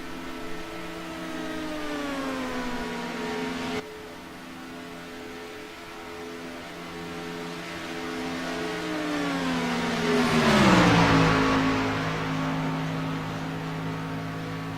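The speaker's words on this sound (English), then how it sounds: "Thing sounds like it's hitting on the rev limiter." Star Mazda race car engine buzzing at high, steady revs as it bounces off the rev limiter, its tone sliding down briefly and swelling louder as it passes close by, heard from trackside without talk.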